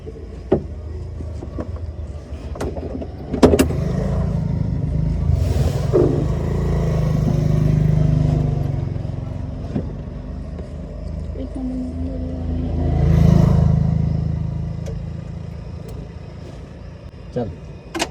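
A car's engine is cranked repeatedly but fails to start, giving a low, steady rumble that swells twice and then fades, with people talking over it throughout.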